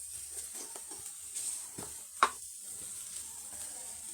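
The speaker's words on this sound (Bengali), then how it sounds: "এখন এটাকে ভালো করে কষিয়ে নিব" Ginger-garlic paste sizzles as it is stir-fried in goat fat for a moong dal, a steady close frying hiss with a sharp clatter of the spoon midway.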